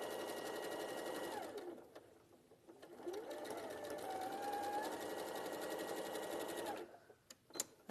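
A sewing machine runs steadily while stitching fabric pieces together, with a high humming drone that dips and resumes, close and moderately quiet, ending in a few clicks.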